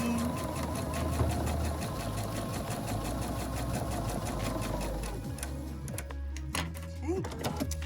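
A domestic sewing machine stitches a seam on a cottage sampler quilt block, a steady fast mechanical whir with rapid needle clatter running continuously before slowing and stopping near the end, close and loud.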